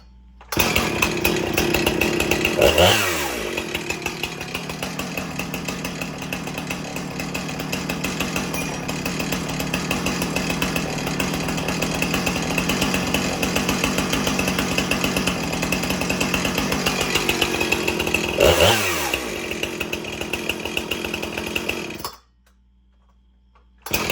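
A Husqvarna 455 Rancher chainsaw runs loud and close for about twenty seconds, holding a steady buzzing note with two brief dips and rises in engine speed, then cuts off abruptly.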